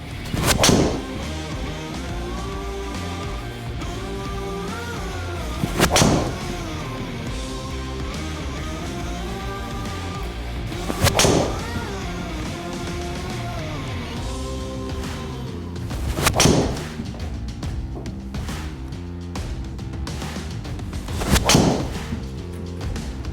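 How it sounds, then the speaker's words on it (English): Golf shots struck with a new 2026 Cobra OPTM X driver: five crisp, loud impacts spaced about five seconds apart, each standing out sharply over steady background music. "I'm just gonna hit a bunch of shots now with this X driver"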